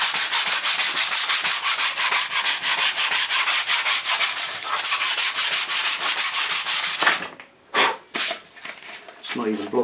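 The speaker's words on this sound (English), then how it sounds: "Just with a flat board, just gonna scuff that up, take the tops off everything" Flat sanding board scuffing old, degraded paint on a bash plate, a fast rhythmic rasping of steady back-and-forth strokes, close and loud, which stops toward the end for a few separate scrapes.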